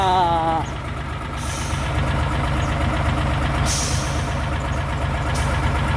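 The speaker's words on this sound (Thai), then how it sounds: "เอาสิบล้อเทเลอร์นะครับขึ้นโรเบต" A ten-wheel trailer truck idles with a heavy, knocking diesel rumble as it loads onto a lowbed, with a brief rising tone at the start and sharp air-brake hisses recurring throughout, loud and close.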